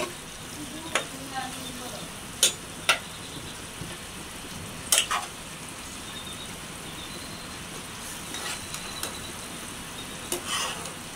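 Pangas fish curry with pumpkin and Malabar spinach stir-frying in oil in a pan over raised heat, a steady bright sizzle with occasional sharp clinks of the spatula against the pan.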